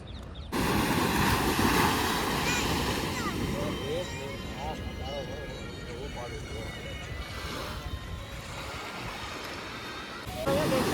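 Continuous rushing surf washes steadily along Somnath beach, fairly loud, with indistinct voices murmuring in the background.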